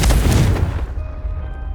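In Hogwarts Legacy, a Confringo spell fires off a single sharp, loud blast that decays quickly into a ringing magical tail, heard alone.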